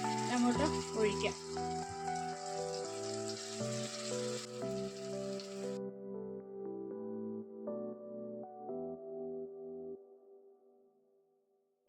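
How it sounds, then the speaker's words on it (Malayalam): Roasted chilli and coriander hit a hot pan for a black chickpea curry, giving a loud sizzle for the first half that then cuts off while steady background music continues. "നമ്മുടെ മുളകും മല്ലിയും കൂടെ വറുത്തിട്ട് വെച്ചിരുന്നതാണ്, അങ്ങോട്ട് ഒഴിക്കാം."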